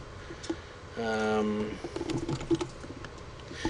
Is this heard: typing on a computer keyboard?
yes